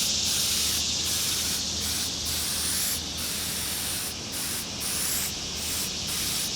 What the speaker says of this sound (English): all you're really going to do is just spray it on it